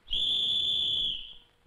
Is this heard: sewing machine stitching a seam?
no